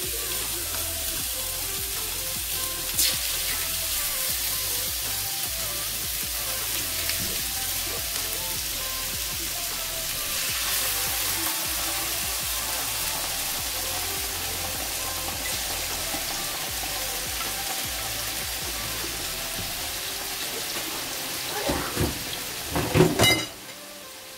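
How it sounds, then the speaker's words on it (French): Marinated chicken fillets frying in a pan for a homemade Caesar salad, giving a steady, even sizzle throughout with no voices, then a few louder crackling pops and clatters near the end. "je les mets directement dans la poêle"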